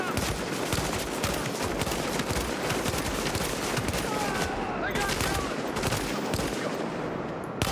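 Dense, rapid gunfire in The Division 2 as shots strike the base of a generator, a loud continuous rattle of bursts with someone talking over it.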